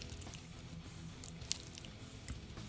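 Quiet close-up chewing of a cold mouthful of red beans and rice from a US humanitarian MRE, soft wet squishing bites with a couple of small clicks and no talk.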